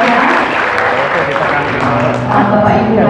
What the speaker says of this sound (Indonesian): Dari tepuk tangan yang meriah untuk Bapak